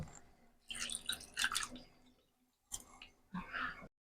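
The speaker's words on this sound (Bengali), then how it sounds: "এবার আলুটাকে আমি জল দিয়ে ভালো করে ধুয়ে নেব" Grated potato is washed by hand in water, heard as quiet, close bursts of wet squishing and splashing separated by short silences.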